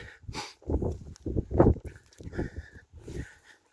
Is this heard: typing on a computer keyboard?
no